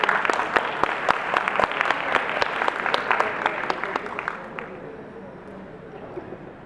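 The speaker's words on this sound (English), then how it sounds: "Can we have a quick round of applause?" An audience at a conference in Dubai claps through a quick round of applause, dense and sharp at first, then thinning and fading out.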